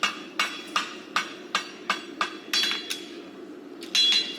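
Hot steel tongs being forged with a hammer on an anvil horn: a steady series of about eleven sharp, ringing metallic strikes at a brisk rhythm, close and clear, with no talk.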